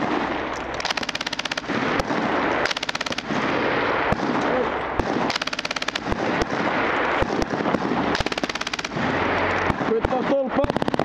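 An MG3 machine gun fires repeated loud bursts during a Swedish Army live-fire exercise, close to the gunner, rapid rattling volleys separated by brief pauses.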